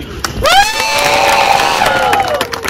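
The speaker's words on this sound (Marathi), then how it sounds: "त्याच्यासाठी जोरदार बालाजी टूर साठी टाळ्या." A tour group on a Balaji Tours trip to Kolhapur temples erupts in loud, sustained cheering with rising whoops and shouts, a close and continuous crowd roar lasting a few seconds.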